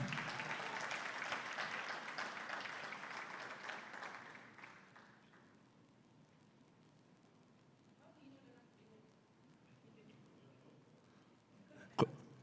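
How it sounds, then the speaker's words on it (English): Audience applause at a graduate reskilling and career empowerment summit, a loud sustained burst of clapping that fades after about four seconds into quiet room murmur, with a sharp knock near the end. "May you please give her a round of applause."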